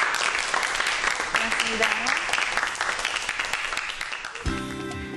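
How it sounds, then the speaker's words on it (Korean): Dense audience applause after a lecture on birds, apples and ICT technology, continuous clapping with a short spoken thanks over it, then a brief musical tone at the end. "오늘 재밌는 강의해 주신 배공기 박사님께 여러분 큰 박수 부탁드리겠습니다"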